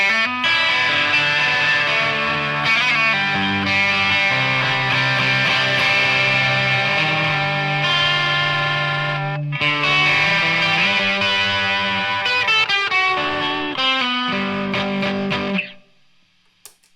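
Distorted electric guitar with a wavering vibrato, sustained chords and single notes ringing out loud and continuous, ending abruptly near the close.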